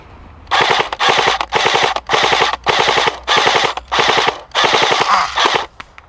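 An airsoft Thompson M1A1 replica fires a full magazine in eight or nine rapid full-auto bursts of roughly half a second each, separated by short pauses, loud and close.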